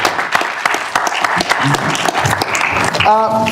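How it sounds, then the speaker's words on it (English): Applause from a room full of people in a class session, a dense patter of clapping that keeps going steadily, with a few voices rising over it near the end. "let's have a round of applause for everybody who's visiting"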